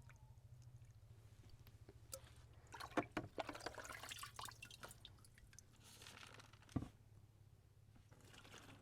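Liquid brine poured over pickled tomatoes in a bucket, with quiet drips and splashy trickles that swell into a louder pouring burst midway, plus a sharp splash near the end over a steady low hum.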